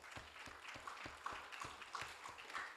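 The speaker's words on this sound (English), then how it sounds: "Let's clap." Audience applause at a Ghanaian publishing anniversary celebration, faint and distant, with steady rhythmic clapping throughout.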